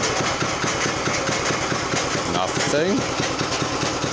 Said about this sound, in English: Got to get that oil burned off the top of the engine.